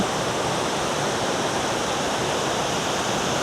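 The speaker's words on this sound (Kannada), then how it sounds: "ಒಂದು 20-30 ಅಡಿ ಹೈಟಿಂದ ನೀರು ಬೀಳ್ತಾ ಇರ್ಬೋದು." Mookana Mane Abbi Falls near Sakleshpur, water dropping some 20 to 30 feet, gives a steady, loud, unbroken roaring rush with no voices.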